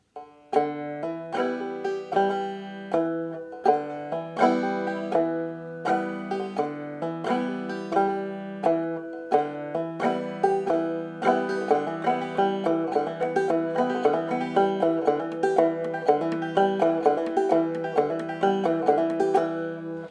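A clawhammer banjo picks out a steady, bright pattern that now brings in the third string, rhythmic plucks and brush strokes repeating evenly and gradually growing denser and quicker, played alone and close.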